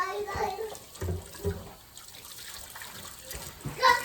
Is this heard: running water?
yes